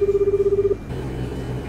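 A telephone call being dialed: a quick run of about a dozen evenly spaced touch-tone beeps, then a hum of line noise as the call connects.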